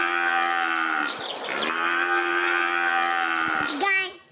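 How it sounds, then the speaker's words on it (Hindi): A cow gives a long, sustained moo, then a second drawn-out moo, loud and close with rich harmonics and little else around it. "ये गाय है"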